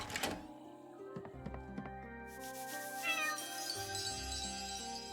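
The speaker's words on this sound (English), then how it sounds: "A cat who actually likes being touched." A cat meows in the video game Chained Echoes, a short burst of two or three quiet meows over soft game music and light clinking effects.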